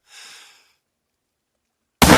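Rifle shot in the hunting video game theHunter: Call of the Wild, a single sharp loud report bursting in suddenly at the very end after a soft brief rustle and near silence.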